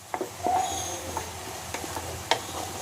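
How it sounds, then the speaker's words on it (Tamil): Ground onion paste with ginger-garlic paste sautéing in a pan for Amritsari chole: a soft, low sizzle runs under scattered stirring scrapes and a few sharp clicks of a spoon against the pan. "இப்போ இந்த ஆனியனோட அரைச்ச விழுது வந்து நல்லா வதங்கணும்"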